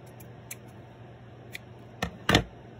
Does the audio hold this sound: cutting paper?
yes